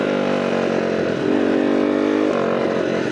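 CR80 conversion motorcycle engine running loud and close at Lake El Reno, a buzzing two-stroke tone that dips and wavers briefly, stumbling before picking back up, with no talking.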